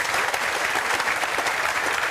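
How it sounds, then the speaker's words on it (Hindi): Students in a classroom clap loudly together, a dense and continuous round of applause that carries on evenly from start to finish. "वेरी गुड, ताली बजाओ जोरदार।"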